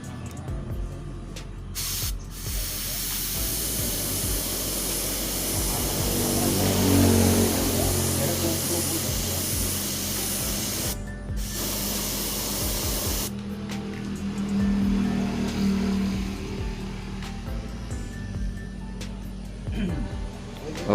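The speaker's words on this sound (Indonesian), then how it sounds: "kita mulai untuk proses penyemprotan clearnya" Clear coat hisses steadily from a spray gun onto a restored motorcycle shock absorber, a continuous close spray broken by a few short pauses, with someone speaking now and then over it.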